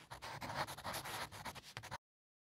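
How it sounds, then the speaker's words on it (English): A dog huffs and pants in quick, breathy puffs close to the microphone, faint overall with soft rubbing noises, then the sound cuts off abruptly. "if you can hear my dog huffing and puffing"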